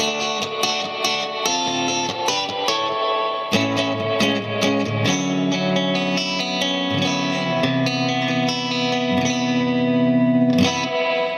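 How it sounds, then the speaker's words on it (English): An electric guitar plays chords and single notes through a Fender Super Sonic amp, each note trailing off in a splashy, echoing spring-reverb wash. "Now it's just the amp's reverb."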